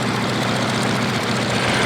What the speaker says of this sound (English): Power with a Pratt & Whitney 450 horsepower engine